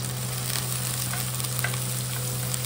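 Snake gourd pieces added to fried onions in a pan, giving a steady close sizzle and frying crackle with soft stirring scrapes and a low constant hum underneath.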